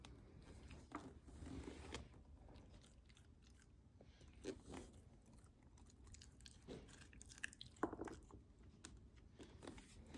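A toddler chewing raw carrot, with quiet irregular crunches and bites spread across the stretch over a faint, hissy room background.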